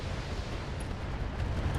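A mech's ammunition cooks off in the BattleTech video game, a dull rumbling explosive roar with broad noisy texture sustained throughout, no voices over it.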